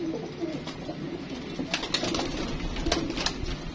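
Pigeons coo in soft, throaty repeated calls close by, with a low murmur of background noise around them.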